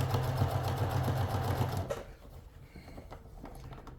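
Sewing machine top stitching along the seam of a cloche hat at a longer stitch length, a steady close mechanical whir for about two seconds before it stops, leaving faint handling noises.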